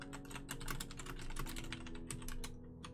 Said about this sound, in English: I like how it's just both of us frantically typing